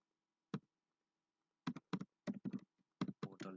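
A web address is typed on a computer keyboard in quick bursts of crisp key clicks, one isolated press followed by a rapid run of taps, close and alone in a quiet room.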